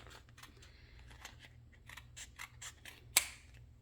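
Scissors snip repeatedly through a foam cone while it is cut into two pieces, a steady run of crisp cuts capped by one sharper, louder snip near the end, close and quiet with no talk.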